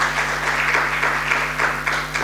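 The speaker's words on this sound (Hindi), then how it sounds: "दोनों के लिए ताली बजाएं" A church congregation claps together during a sermon, a steady, fairly loud burst of many hands with a faint low electrical hum running underneath.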